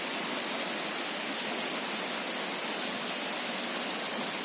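Steady roar of the Grobogan Sewu waterfall, a dense broadband rush of falling water that stays constant and loud throughout, with no voices.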